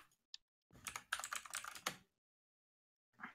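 Rapid typing on a computer keyboard, a dense burst of key clicks lasting over a second, with a single click just before and a short flurry at the end, close and fairly quiet, with no talking.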